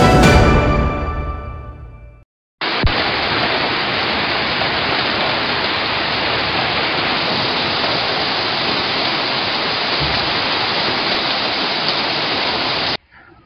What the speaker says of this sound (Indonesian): Hujan deras melanda Kabupaten Seram bagian timur mengakibatkan permukiman terendam banjir